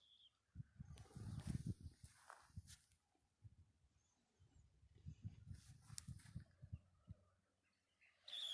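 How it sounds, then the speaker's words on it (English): A flock of western sandpipers passing over a lagoon shore, soft twittering calls and a fluttering rush of wings that rise and fade in two waves, faint and outdoors. "hopefully you can hear those birds"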